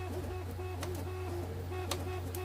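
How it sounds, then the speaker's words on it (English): A 3D printer, neglected for three years, runs steadily nearby with a constant low motor hum, faint whirring and periodic light ticks and clicks, with no one talking. "avoid all the noise from the printer"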